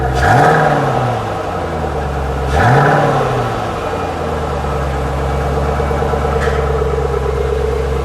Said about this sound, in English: Give it just a little rev, would you please?